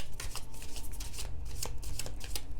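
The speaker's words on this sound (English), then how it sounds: "Best to do it out loud while you're looking at me shuffle." Tarot cards being shuffled by hand in a steady run of crisp riffling and soft slapping bursts, close and continuous, with no talk over it.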